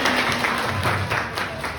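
A short burst of group hand clapping during a positive discipline training session, moderately loud with some voices mixed in.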